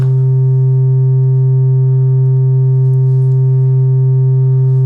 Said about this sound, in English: Let's bring in the sine wave from the SV-1